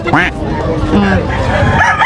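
A rooster at a crowded poultry expo in Bocaue where roosters and stag chickens are shown, crowing loudly and close amid a busy hall, with people talking and murmuring throughout.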